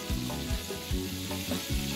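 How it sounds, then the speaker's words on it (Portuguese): Breaded pork fillet fries in hot oil with a dense, close, continuous sizzle, broken by soft periodic stirring or shifting sounds. "Aí é só fritar no óleo quente"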